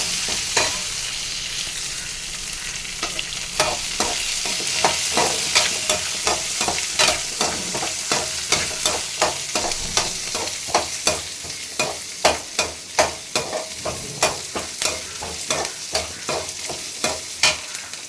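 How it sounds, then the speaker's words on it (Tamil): Ingredients for pirandai (adamant creeper) thuvaiyal sauté in a pan over low heat, a long run of quick, regular spatula strokes scraping against the pan over a constant sizzle that grows more rhythmic as it goes. "தீயை சிம்மில் வச்சுட்டு நல்லா வதக்குங்க"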